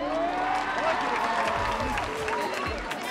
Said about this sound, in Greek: Χειροκρότημα δυνατό